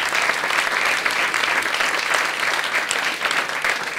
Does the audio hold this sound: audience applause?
yes